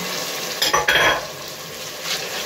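Tomatoes and peppers fry in a cast iron pot: a continuous close sizzle, with a short cluster of stirring clinks and scrapes near the start, then settling back to an even hiss.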